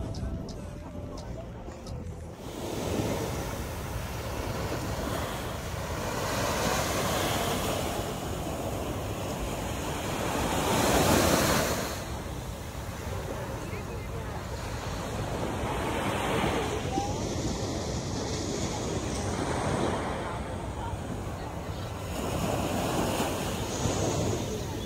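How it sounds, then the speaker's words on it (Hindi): Ocean waves break and wash onto a Miami beach beside a luxury hotel, a continuous roar with swells rising and falling every few seconds, mixed with heavy wind buffeting the microphone and a voice talking at times. "तो पहले जाके यार अपनी लहरों की आवाज़ सुनते हैं।"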